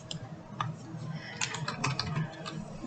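Quick keyboard typing clicks along in irregular bursts, close by, with a faint low hum in the background.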